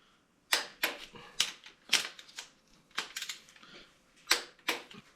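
Engine bolts on a 2JZ engine being retorqued with a torque wrench to 33 foot-pounds, giving a series of sharp, close ratcheting clicks in uneven bursts, about ten distinct snaps with short pauses between.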